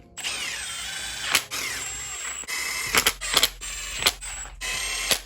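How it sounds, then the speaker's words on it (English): A power tool gun runs oil pump bolts down on a Honda/Acura V6 engine during a timing belt reseal, giving several whirring bursts of varying length with short gaps and sharp clicks between them, close and fairly loud. "I like to just take my gun and run it down a little bit."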